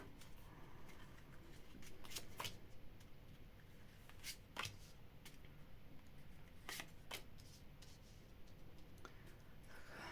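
Tarot cards are shuffled and riffled in quiet, sharp bursts, with soft handling noises in between and no one talking.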